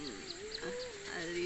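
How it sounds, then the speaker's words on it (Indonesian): A black swan gives a soft, wavering, drawn-out call that rises and dips in pitch, faint against background noise. "Black Swan"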